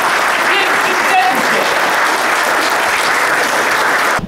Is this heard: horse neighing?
no